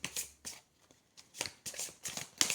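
Tarot cards are shuffled by hand in several quick, crisp riffling bursts with short pauses between them, close and fairly quiet, with no talking.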